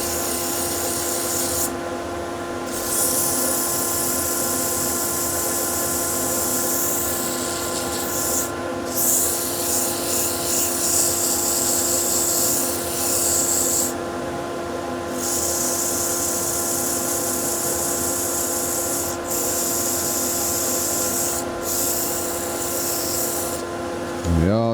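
Steady abrasive rubbing and rasping of 150 grit abrasive against a turned wooden bowl with a pin-striped pattern, continuous for the whole span with brief pauses, close and fairly loud.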